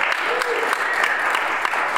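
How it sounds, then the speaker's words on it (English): An audience at a live show claps for the church hosts, a steady, full round of applause from a crowd lasting the whole moment, with faint voices mixed in. "can we also get a round of applause for our church"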